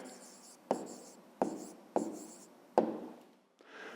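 Pen or pencil writing down a fifth-grade maths answer, heard as four quiet, close strokes and taps at even intervals, each fading out before the next, with a faint rustle at the end.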